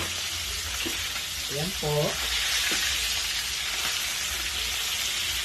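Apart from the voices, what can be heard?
eggplant frying in a pan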